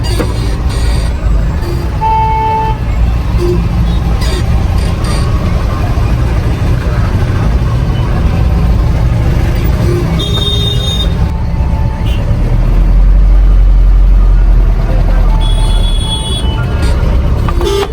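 Vehicle idling and creeping through dense market-day crowd traffic, a steady close engine rumble under busy street noise with occasional horn toots near and far.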